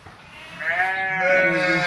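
A sheep on a farm of about 200 sheep bleats loudly and close up, one drawn-out wavering cry that swells and holds to the end.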